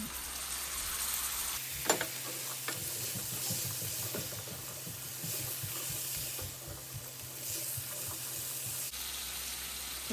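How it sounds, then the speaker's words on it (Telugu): Chickpeas are stirred into a pan of frying spices, a steady sizzle with repeated scraping and stirring strokes that stays fairly quiet, with no voices. "ఇప్పుడు దీంట్లోకి శనగలు వేసి కలుపుకుందాం."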